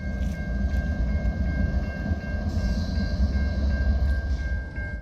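A BNSF freight train carrying a Boeing 737 Max fuselage rolls slowly in reverse, with a heavy continuous rumble, steady tonal whine and faint rhythmic wheel clicks.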